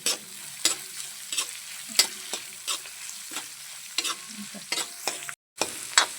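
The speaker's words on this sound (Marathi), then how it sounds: "आता आपण कांदा टाकू आणि याला पण छान असं परतून घेऊ" Chopped onion for upma sizzles in hot oil alongside urad dal while a spoon scrapes and taps the pan at a quick, uneven rhythm, close up, with one brief dropout near the end and no talk.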